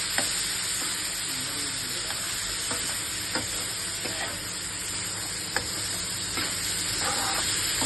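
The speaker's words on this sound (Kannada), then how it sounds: "ಮಟನ್ನು ನೀಟಾಗಿ ಫ್ರೈ ಮಾಡಬೇಕು" Mutton fries in a pan with a dense, even sizzle and occasional light taps from stirring, steady and close throughout.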